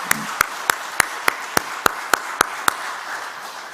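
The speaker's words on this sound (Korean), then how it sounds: "우리 두 분, 우리 박수로 환송합시다" A church congregation claps in unison at a Sunday worship service to send off missionaries, with about ten evenly spaced, crisp claps over a low room murmur before the rhythm fades.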